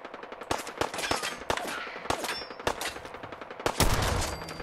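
Gunfire in Fallout 4 rings out as a rapid series of sharp, loud shots in quick irregular bursts, close and clear with no talking.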